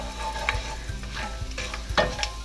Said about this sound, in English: I've added all of the whole spices to the hot oil